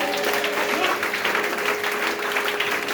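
A church congregation claps and cheers in sustained applause that fills the room, with a few voices rising through the clapping.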